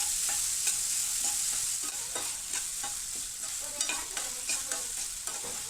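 Chopped onion browns in a pan for mutton keema, with a bright, steady sizzle and regular spoon scrapes stirring through it at a close, moderate level.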